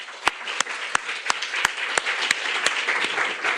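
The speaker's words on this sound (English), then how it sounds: "please can we give André a huge round of applause" An audience at a conference event applauds for André, a busy wash of clapping with several sharp, evenly spaced loud claps standing out near the microphone.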